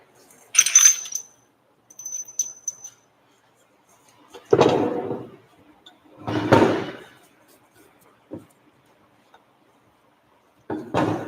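Metal bolts are picked up and handled in a shop, producing a few separate clinks and rattles, some bright and jingling, others duller knocks, with quiet gaps between them and no talking.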